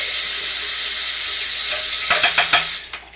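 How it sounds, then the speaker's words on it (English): A bathroom sink tap runs in a steady, loud hissing stream while a makeup brush is rinsed under it, with a few brief splashy disruptions near the end as the brush moves through the water. "Okay, then I'm going to rinse it off"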